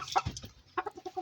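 Native chickens kept in a cage cluck in a short run of quick, close clucks: a couple of sharper calls first, then a rhythmic series of softer ones, with nobody talking.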